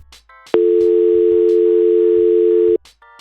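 A telephone dial tone follows hanging up, a loud steady hum lasting about two seconds. Short clicks and bits of noise come just before and after it.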